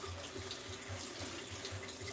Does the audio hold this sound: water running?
yes